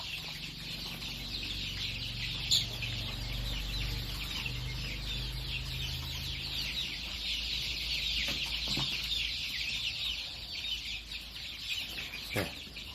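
Laying-breed chicks in a poultry house chirp continuously in a dense, high-pitched chorus, fairly faint, with a few soft knocks in the background.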